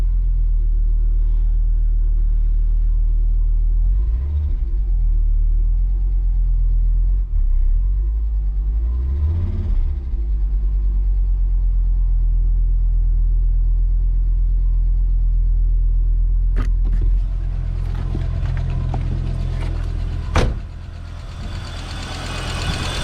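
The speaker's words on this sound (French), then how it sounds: "T'entends les poussoirs, comment ils claquent?" An Audi engine runs at idle during a start-up, with hydraulic lifters clattering over a deep, steady rumble, close and loud, with sharper noisy bursts near the end.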